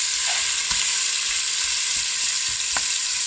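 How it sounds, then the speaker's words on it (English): Beef for a homemade stew sears in a hot pan, a loud, steady, close sizzle and crackle with occasional pops throughout, no talking. "Look at that thing sizzle."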